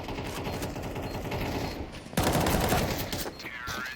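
Rapid bursts of gunfire fill a Counter-Strike match between Wildcard and Nocturnal in the ESL Challenger League, with steady rattling fire that jumps to a louder, denser volley about halfway through.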